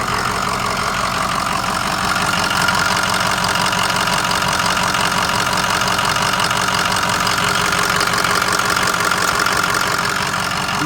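A 2007 Ford F250 diesel engine idles, a steady dense clattering rumble with rhythmic knocking, close and loud throughout with no talking.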